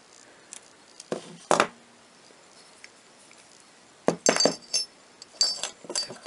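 Small steel parts of an M16A1 rifle bolt clink together as the firing pin and retaining pin are pulled, giving a few sharp, close metallic taps and jingles separated by quiet pauses.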